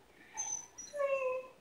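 A dog whimpering softly at close range, a few thin high whines and squeaks in short bursts over a quiet room.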